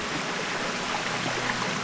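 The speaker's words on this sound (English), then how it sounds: "Man, I've crossed this creek like 5 times now." A forest creek flows beside a trail, giving a steady, dense rushing wash of water with no breaks, close and fairly loud.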